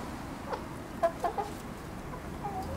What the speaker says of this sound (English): how come you have chickens in your backyard?